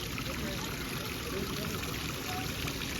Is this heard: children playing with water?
yes